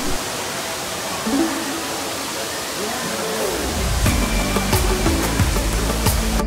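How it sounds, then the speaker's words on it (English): An indoor waterfall at Gardens by the Bay in Singapore pours as a broad, steady rush of water, close and loud. A low rumble and some clatter join in the second half. "A waterfall from the top. Look at the noise of the water."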